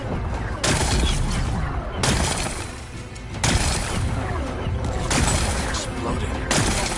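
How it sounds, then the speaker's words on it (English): Heavy blasts boom out in a video game as rocks are blown apart to uncover a power cell, several loud explosive bursts recurring about every second or two over a sustained rumble. "Gotta blast away some rocks, so we can expose the power cell."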